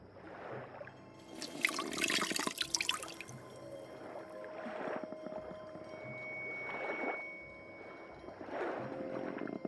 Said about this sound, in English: So now I can let it down into the water carefully, nice and quiet.